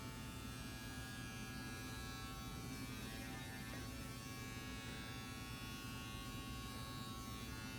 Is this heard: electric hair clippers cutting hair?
yes